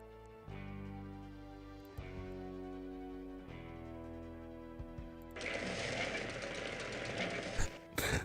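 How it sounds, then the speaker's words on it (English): Buzzing, chainsaw-like machine noise in the video game Thimbleweed Park, steady tones that step in level a few times, then turn into a louder, rougher grinding roar in the final seconds, with no talk over it. "Like the chainsaw noise it's making."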